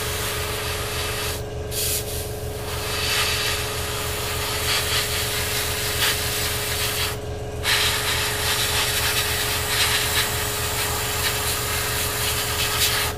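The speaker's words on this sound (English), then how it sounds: "we're just going to blow in this bottom panel yellow" An airbrush sprays Tamiya XF4 flat yellow onto a 1/48 Eduard FW-190 A5 model kit, a continuous close hiss with two brief pauses where the trigger is released.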